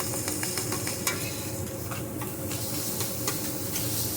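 Garlic butter melting on a hot grill: a steady frying sizzle and hiss with scattered crackles and light scraping taps, moderately loud and continuous.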